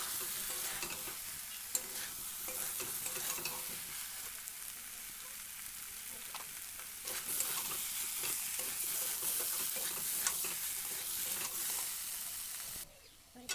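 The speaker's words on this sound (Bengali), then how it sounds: "এবার সিদ্ধ করা আলুগুলো দিয়ে দিচ্ছি" Boiled potatoes stirred and frying in a pan, a steady close sizzle with scraping spoon strokes running throughout, briefly cutting off near the end.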